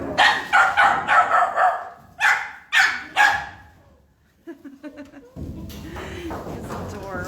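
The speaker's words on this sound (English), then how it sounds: "He's a little terrier puppy who is 8 weeks old." An eight-week-old terrier puppy at a dog shelter gives several sharp, close barks in quick bursts, then a few softer yips, followed by steady background noise and low voices.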